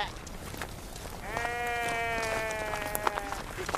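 Sheep in a flock bleat in a drawn-out wavering call near the middle, set against a rough outdoor background with scattered knocks and faint movement.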